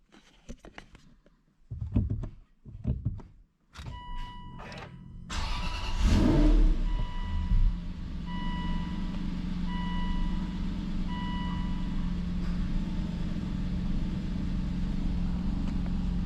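A few clicks and chimes, then an Aston Martin V8 Vantage engine cranks and roars to life after a clutch upgrade, settling into a steady rumbling idle as soft periodic chimes continue.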